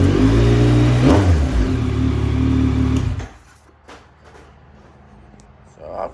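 A 2024 Yamaha MT09 with a Black Widow full exhaust revs while riding, loud and close, with a sharp throttle blip rising then falling before the engine cuts back to a quiet idle, then a brief rise at the end.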